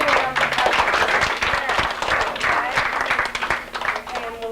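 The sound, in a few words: girls applauding their parents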